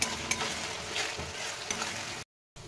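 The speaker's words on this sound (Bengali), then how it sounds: "এবার সব মশলা একবারে আবার ভেজে নেব।" Spices frying together with browned onion, ginger, garlic and green chilli paste in a pan, a steady close sizzle with stirring scrapes and a few sharp clinks, briefly cutting out near the end.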